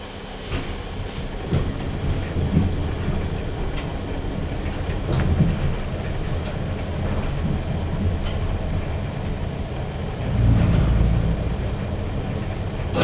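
Lift rising inside a shopping centre: a steady low mechanical rumble and hum with faint rattles, swelling slightly near the end, with no voices.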